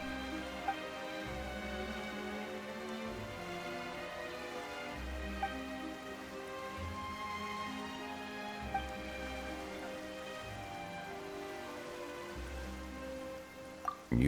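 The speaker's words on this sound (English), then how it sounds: "Why is it raining all of a sudden?" Sudden rain falls in a steady, close hiss, with low rumbling swells rising and fading beneath it throughout.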